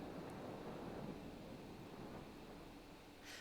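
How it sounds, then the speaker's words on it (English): Ambient wind and ocean waves from Rogueport in the Paper Mario video game, a soft continuous rushing wash with low rumble, steady and faint with no voices. "this is wind and waves of Rogueport"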